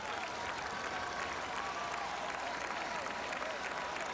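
Baseball crowd at Fenway Park during a Red Sox game against the A's in the 4th inning, a dense, continuous roar of cheering and clapping that stays loud throughout.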